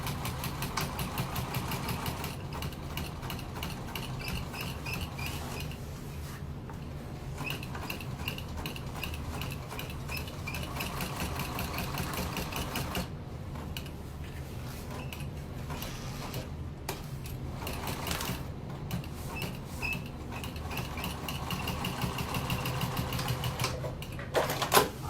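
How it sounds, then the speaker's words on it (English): A sewing machine stitches stacked tote bag pieces together, a steady mechanical whirring and clatter that runs continuously with brief pauses and restarts, moderately close and without talk. "hold it in place as I sew it on again"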